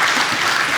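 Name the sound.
congregation applause of encouragement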